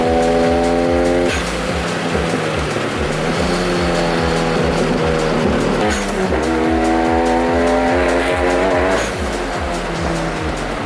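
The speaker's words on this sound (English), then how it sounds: "That's braking." A Hyundai Genesis Coupe on a race track brakes hard: loud, close engine drone with stepped harmonics, shifting pitch and a steady tire squeal riding over it, heard continuously from inside the car without talk.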